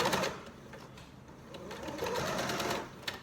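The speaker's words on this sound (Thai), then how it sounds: "เราก็จะมาเริ่มเย็บนะคะ ตรงขอบหมวกกัน นะคะ เริ่มเย็บกันเลยนะคะค่อยๆเย็บ" A sewing machine stitches along the brim of a fabric bucket hat, its motor whirring in uneven bursts that speed up and slow down across the clip, close and clear.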